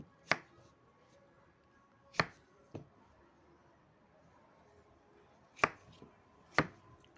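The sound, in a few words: cutting pumpkin into pieces with a knife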